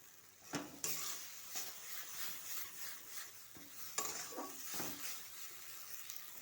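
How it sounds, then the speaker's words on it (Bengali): Cabbage bharta is stirred in a pan as it dries and turns sticky. A spoon scrapes and taps in repeated strokes over a soft background sizzle, with a few sharper metallic knocks, fairly quiet and close. "যত নাড়ানো যাবে তত স্বাদ বাড়বে।"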